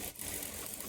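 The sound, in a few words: sewing machine stitching blouse armhole darts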